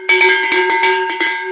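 Cowbell shaken sideways as if cows were running: quick, uneven clanks in a short close burst, loud and bright with a sustained metallic ring.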